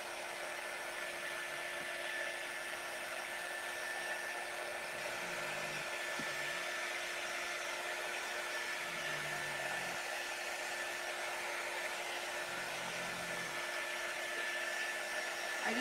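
A hair dryer blows continuously at close range while chalk paste dries on a craft project, a steady whooshing hum with a constant tone that runs unbroken throughout.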